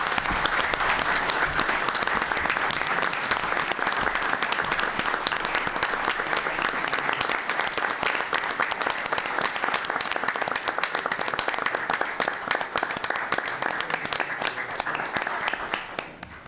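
Sustained applause fills a city council chamber in Portsmouth during an award presentation, a dense, steady wash of many hands clapping at full volume for about sixteen seconds before easing off at the end.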